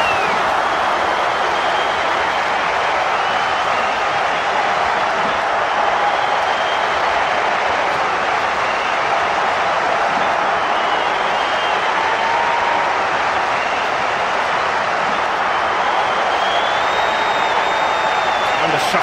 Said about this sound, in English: The crowd love that one, and they're on their feet applauding that play.